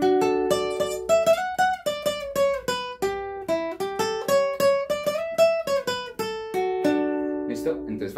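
Requinto guitar plays a fast passage of a Latin American song, crisp plucked single notes running quickly in a lively rhythm, close and clear with no talking.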